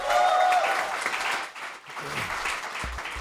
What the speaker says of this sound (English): All right, y'all give that band another round of applause.